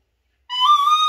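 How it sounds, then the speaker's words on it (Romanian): A toy whistle gives one short steady tone that starts abruptly after a moment of silence, clear and close. "Ăsta e de fluier, da, să vedem cum fluierăm."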